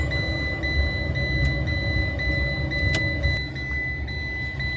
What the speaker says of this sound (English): it's clearly not shifting gears well